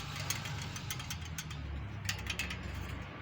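Worn clutch disc with play in its centre hub, rattling with a steady metallic clatter over a low mechanical hum, sharper ticks scattered throughout.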